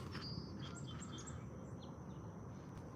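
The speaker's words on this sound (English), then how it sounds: "Jonathan Seagull, probably" A seagull calls with a few short, high chirping cries, faint and somewhat distant over a steady background hiss, with no voices.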